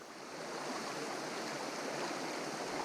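A cold creek flows steadily, giving an even, broadband watery rush that stays constant throughout, fairly quiet and with no voices.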